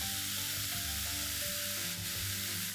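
Finely chopped paneer with red chilli flakes, peri peri masala and ketchup sizzling in a pan, a steady frying hiss with soft stirring scrapes.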